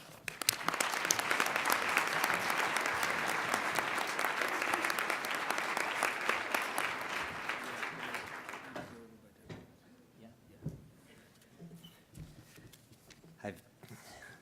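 A lecture hall audience at a healthcare talk breaks into loud, sustained applause that fades after several seconds into a few scattered claps and footsteps.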